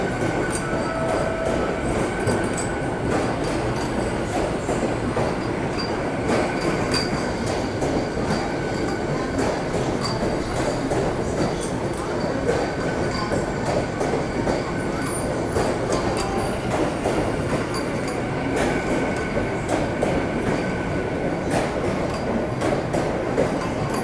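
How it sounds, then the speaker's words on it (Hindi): A Vande Bharat Express train speeds up as it passes, with a sustained rumble of carriages, rhythmic wheel clatter and occasional squealing wheels, loud and close and lasting throughout. "तो ये निकल चुकी है वंदे भारत एक्सप्रेस।"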